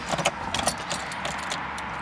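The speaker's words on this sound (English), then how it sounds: "put the key in, we're going to turn the ignition" Car key jangles softly and near as it is slid into the ignition of a Porsche Cayman, a few quick metallic clinks over a quiet cabin hum.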